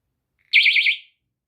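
A personal safety alarm goes off in a short, loud, piercing electronic burst with a rapid warbling pulse, heard alone and close.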